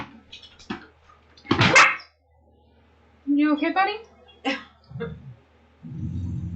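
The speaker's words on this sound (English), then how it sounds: "He's growling at me like hardcore." A dog growls and barks in short, close bursts separated by quiet gaps, with a voice speaking softly to it between the sounds.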